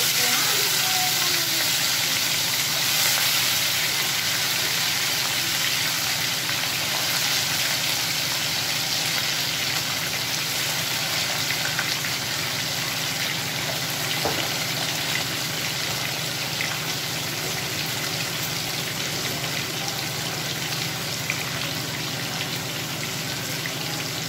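Garlic fries in hot oil in a pan for a Bihari-style fish curry, giving a steady, dense sizzling hiss that holds unbroken from start to finish.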